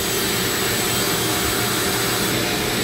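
A Dremel rotary tool carves manzanita wood into a dragon, a loud, steady high-pitched whine with grinding hiss running throughout, close and alone without talk.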